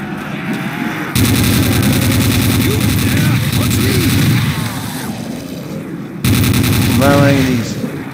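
Sustained automatic fire from an RPK machine gun in Call of Duty: World at War custom zombies mode, loud and continuous across most of the clip with a brief lull, plus a rising whine near the end.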